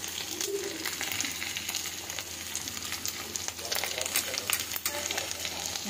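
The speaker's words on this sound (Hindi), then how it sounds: "इसको थोड़ा सा भूनेंगे हम आलू को" Potatoes frying in a pan for aloo palak give a continuous close sizzle with crackling pops and occasional stirring scrapes, and no one speaks.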